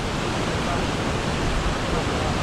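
A Highland stream in full spate after a night of heavy rain on the Dubh Loch circuit below Lochnagar. It gives a loud, unbroken rushing roar of water with no pauses.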